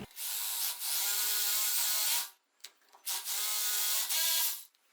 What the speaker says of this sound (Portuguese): nós vamos utilizar o martelete com a broca de 10 mm